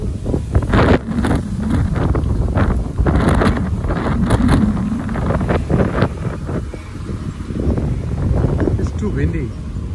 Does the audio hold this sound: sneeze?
no